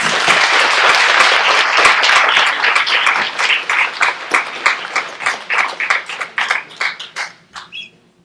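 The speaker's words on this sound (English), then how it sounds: "Let's give another round of applause to all of our graduates" Crowd applause for EMT graduates at a university pinning ceremony, full dense clapping at first that thins into scattered individual claps and fades out near the end.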